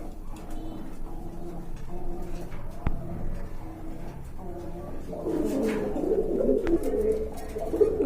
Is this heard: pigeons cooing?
yes